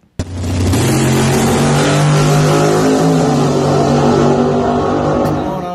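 A nitrous-fed big block engine in a 1982 Camaro Z28 race car revs hard and steadily, loud and close, a sustained roar after a sharp start with no talk over it.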